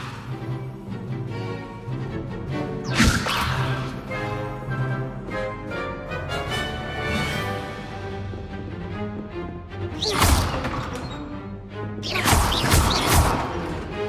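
Spell effects from casting Levioso in Hogwarts Legacy, with sharp whooshing bursts and thumping impacts at several points over a layer of game music and ambience, loudest near the end.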